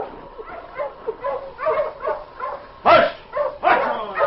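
A dog whimpers and yips in a snowy Yukon radio drama, a string of soft whines and short cries at close range that build to two louder yelps, with a single brief spoken word.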